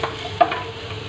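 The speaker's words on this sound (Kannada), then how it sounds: "ದಿಸ್ ಇಸ್ ಚಾಪ್ಡ್ ಬೆಳ್ಳುಳ್ಳಿ, ಇದು ಜಿಂಜರ್, ಇದು ಸ್ವಲ್ಪ ಫ್ರೈ ಆಗ್ತದಂತ" Chopped garlic and ginger fry in a pan. A faint, even sizzle runs under a brief scrape of stirring near the middle.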